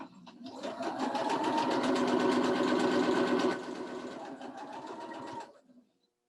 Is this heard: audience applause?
no